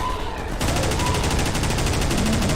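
Rapid automatic gunfire from shooting on foot in Entropy Zero 2 kicks in after a brief pause and rattles on steadily and loud, with no talking.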